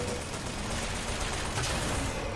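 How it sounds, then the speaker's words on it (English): Rapid gunfire in Bioshock Infinite, a dense burst of loud overlapping shots filling the clip without speech. "I shot him"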